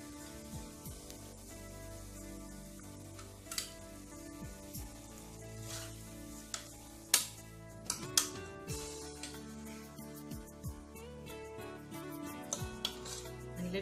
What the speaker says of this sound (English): Let it cook for another 5 minutes here. Keep stirring.